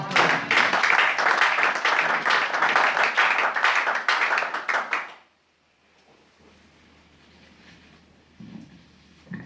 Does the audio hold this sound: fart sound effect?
no